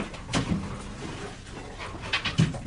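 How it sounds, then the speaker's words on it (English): A sniffer dog searches a house for cash, drugs and firearms, giving soft, quick bursts of sniffing and panting close by, with faint knocks and movement in the room. "the dog's trying to find cash, drugs and firearms"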